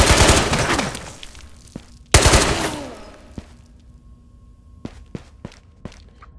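Gunfire in Ghosts of Tabor: two loud bursts of rapid automatic shots ring out close by, then single shots and thuds scatter more sparsely and faintly across the later seconds.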